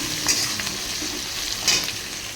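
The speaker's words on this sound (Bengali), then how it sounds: "ফোড়নে একটু জিরে তেজপাতা ফোড়ন দিয়ে পেঁয়াজ ভাজার জন্য দিয়ে দিয়েছি।" Onions fry in hot oil tempered with cumin and bay leaf, giving a continuous close sizzle with two brief bursts of louder crackle as they are stirred.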